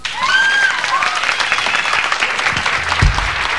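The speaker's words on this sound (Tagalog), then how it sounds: "Palakpak kayo doon." Audience applause at a live Filipino show, a steady wash of clapping hands lasting a few seconds and fairly loud, with some voices mixed in toward the end.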